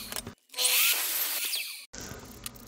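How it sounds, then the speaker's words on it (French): A mitre saw cuts wood pieces for an observation tower built on an IKEA step stool: a loud close blade whine and cutting roar lasting over a second, framed by quieter workshop noise and short silent gaps. "on se retrouve sur la scie à onglet sur laquelle je vais débiter tous mes morceaux"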